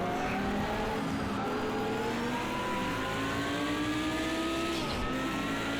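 Race car engine in Project CARS 2 at a steady, loud drone with rising and falling pitch as the driver drops down into third gear, no talk over it.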